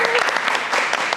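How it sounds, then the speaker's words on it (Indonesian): Brief burst of audience applause at a talk with Berlin Marathon finishers, dense close clapping with a voice faintly underneath. "tepuk tangan dong"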